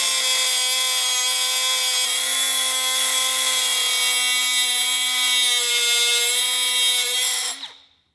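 A Milwaukee M12 3-inch cutoff tool, run with its guard off, cuts a small corner in one steady, loud high-pitched whine lasting about seven seconds, then spins down and stops.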